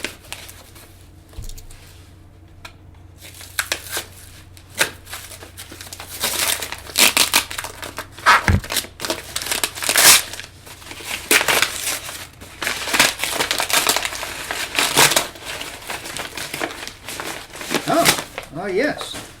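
Packing tape being pulled and ripped off a cardboard box while opening a package, a long stretch of crinkling, tearing and crushing noises close by, with an Apple AirPort Extreme Time Capsule inside.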